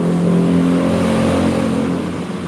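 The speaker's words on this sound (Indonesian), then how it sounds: "Gue dari tadi dengerin suara motor lewat om." A motorbike passes on the street right in front, its engine a loud, steady droning hum close by that eases off slightly toward the end.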